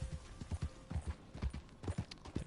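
Horse hooves clip-clopping at a steady walking pace in the Red Dead Online game, a close, even rhythm of soft hoof strikes heard on their own at moderate volume.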